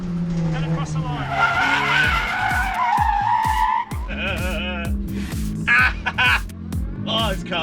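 A Nissan 180SX race car lapping a track, its engine revving and shifting through gears up close, with brief tyre chirps and a voice talking over the run.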